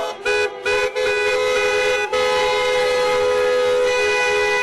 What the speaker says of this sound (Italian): sventolano le bandiere e suonano i clacson per le strade